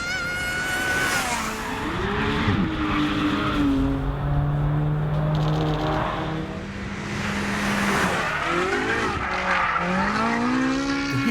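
Fast road cars are driven hard around Castle Combe circuit. Engines roar and swell as they pass close by, with rising and falling revs and bursts of tire squeal in a continuous loud stretch with no talk.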